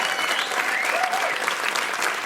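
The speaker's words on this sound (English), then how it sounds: "I got to give you a round of applause for that." A round of applause given on a podcast: a few seconds of dense, steady clapping at an even, fairly loud level.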